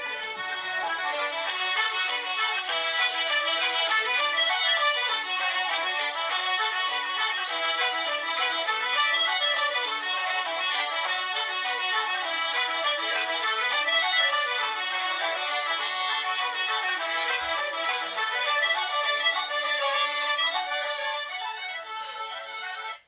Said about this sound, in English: There's accordions, which accordions drown everything out, and probably fiddles and stuff.